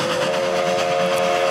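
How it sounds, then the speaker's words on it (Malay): A train whistle blows in one long, steady, sustained tone, loud and unbroken throughout, with no voices. "Okey, itu adalah bunyi kereta api."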